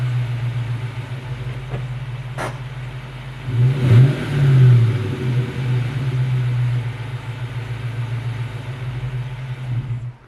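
A 1994-1998 Ford Mustang SN95 Cobra engine rumbles at a steady low idle as the car is driven in, with a brief throttle rise partway through before it settles back to an even drone.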